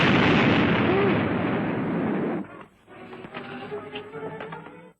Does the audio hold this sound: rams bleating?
no